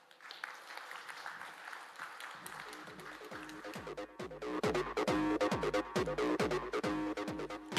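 Audience applause after a keynote talk at a tech user conference in India, starting as a soft patter and swelling into dense, loud clapping over the second half.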